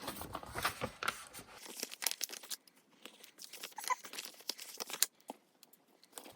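Stickers peeled from their backing sheet while setting up a B6 Stalogy bullet journal, giving a run of close, quiet crinkling and tearing bursts of paper with short pauses between them.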